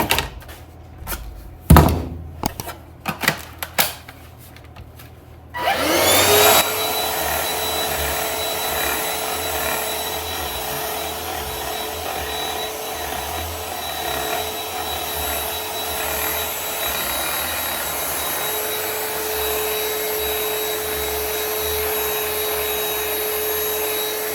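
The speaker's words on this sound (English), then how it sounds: "just give this a quick vacuum" After several knocks and clunks, a vacuum cleaner starts up with a loud whine and keeps droning steadily, its pitch shifting slightly partway through, while vacuuming the center console of an IROC car.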